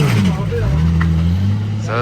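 Drift cars at a drift series selection event in Vaison rev their engines, with gliding, wavering engine tones rising and falling under close, continuous talk.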